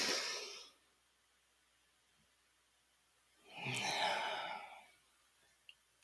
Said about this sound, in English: Take a deep breath in, close your eyes.